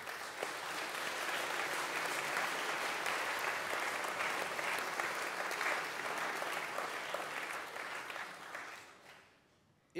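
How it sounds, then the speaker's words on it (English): A chapel audience bursts into dense, steady applause that holds strong for about eight seconds before thinning and dying away, with a brief sound just at the close. "Give yourselves a round of applause."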